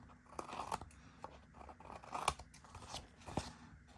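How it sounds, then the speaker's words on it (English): Scissors snip along the edges of a glued paper stack for a family album, a few crisp close cuts spaced irregularly with small rustles of paper between them. "grab our scissors, and just trim off the edges"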